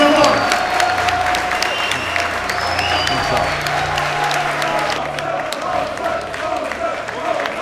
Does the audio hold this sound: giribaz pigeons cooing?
no